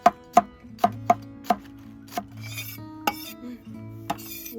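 A knife chops scallions finely on a board while Kimchi pot rice is cooked at a winter campsite. The cuts land as sharp, separate knocks at an irregular pace, close and clear, with occasional faint chatter.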